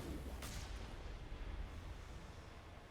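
Gunfire in an online shooter game, with a sharp burst near the start and a steady rumbling backdrop of combat continuing beneath it.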